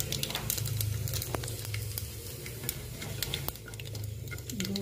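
Whole spices, including a bay leaf, an opened black cardamom pod and black peppercorns, sizzle and pop in hot oil in a pan, a steady close frying hiss with scattered crackles.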